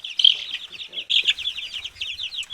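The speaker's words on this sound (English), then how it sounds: "These 17 chicks were all born here on the farm" Young farm-hatched chicks in a brooder, a steady stream of high, rapid peeping chirps close by, several birds overlapping with brief soft gaps.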